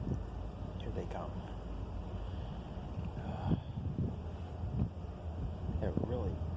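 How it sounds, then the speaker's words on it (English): Wind gusts buffet a microphone outdoors beside railroad tracks, a low rumbling roar that swells and eases in waves for several seconds, with faint voices now and then. "Had a really bad bout of wind there"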